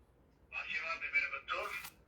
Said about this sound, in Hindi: रिंगटोन लगी हुई है, रिंगटोन सुनाता हूं आपको मैं।